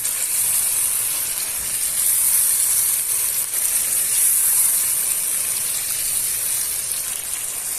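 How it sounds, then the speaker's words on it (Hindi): Fried chicken gets stirred into a hot karahi masala for a dhaba-style chicken karahi, producing a loud, continuous, hissing sizzle that surges a little as it is mixed. "हमारा मसाला भून चुका है, उसमें हमने फ्राई चिकन शामिल कर लेंगे। इसको मिक्स कर लें।"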